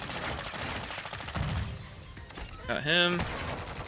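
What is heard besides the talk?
gunfire in a video game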